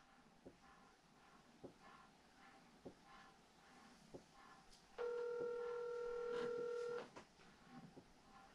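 Faint touch-tone dialing of a phone call on speaker at home, with soft rhythmic ticking and one steady two-second dial tone over a quiet room hum.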